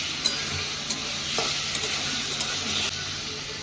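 Salt, turmeric and ground spices fry in oil in a pan for a chickpea curry, giving a constant gentle sizzle with a few light clicks and scrapes of stirring, close up and without speech.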